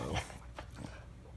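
A small rescue dog whimpers and whines briefly while begging for breakfast, a few soft close cries in a quiet room.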